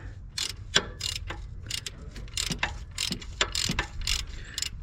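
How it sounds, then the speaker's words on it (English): Ratchet clicking in short bursts while loosening the 12mm locking bolt on the belt tensioner of a 2005 Lexus RX330 engine, close and moderately loud, with brief pauses between runs of clicks and no talk. "Now I'm loosening up the bolt, the locking bolt that's holding on to the tensioner bolt."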